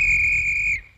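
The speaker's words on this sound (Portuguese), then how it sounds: "Está vendo esse apito? Bem, se o lobo aparecer, é só apitar assim." A single sharp, steady whistle blast in a cartoon scene, held bright and loud for most of a second before cutting off.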